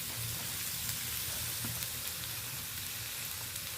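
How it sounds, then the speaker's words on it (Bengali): Chopped onion sizzles steadily in a couple of teaspoons of hot oil in a pan, a dense, even crackling hiss that continues unbroken with no voices. "তেলে আমি প্রথমত পেঁয়াজটা দিয়ে দিলাম"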